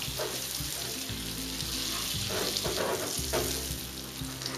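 Cashew nuts drop into a hot pan for butterscotch praline, setting off a close, continuous crackling sizzle with a few stirring scrapes, and no voices.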